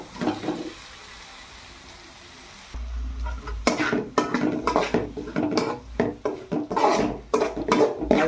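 Grated egg keema stirred in a pan: after a quiet start, a spatula scrapes and clatters against the pan in rapid repeated strokes, close and fairly loud.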